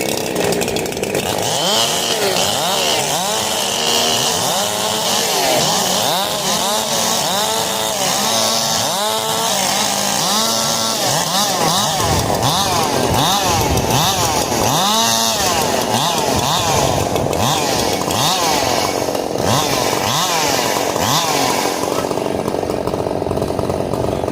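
Several chainsaws revving and idling together at a SawFest cube carving competition, a dense, loud, continuous roar with rising and falling throttle sweeps and no talk.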